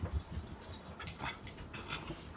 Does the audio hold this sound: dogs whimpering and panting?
yes